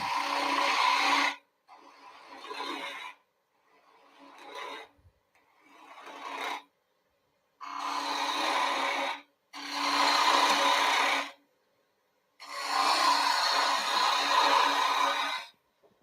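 Wood gouge cutting a three-corner bowl on a lathe, rasping in repeated bursts of one to two seconds separated by short pauses, close and fairly loud, removing waste wood.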